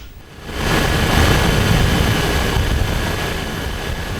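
A helicopter flies over flooded Tangerang, its engine roar swelling in after half a second into a loud, steady, broadband rumble and whine that holds to the end.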